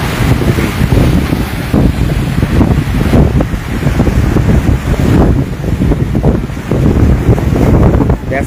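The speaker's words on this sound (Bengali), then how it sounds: "দেখতে পাচ্ছেন যে লঞ্চটা কোনোভাবেই কিন্তু ওখানে সেইভাবে প্যাসেঞ্জার নামাতে পারছে না, এতটা নদীর উত্তাল।" Strong wind buffets the microphone over a rough, choppy river beside a passenger launch, with loud gusting roars and surging water that rise and fall in waves throughout.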